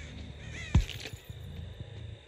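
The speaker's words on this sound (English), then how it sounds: "There goes the crows coming down on this side." Crows caw a few times at a middle distance in a video game, amid a low background hum, with a sharp thump near the start.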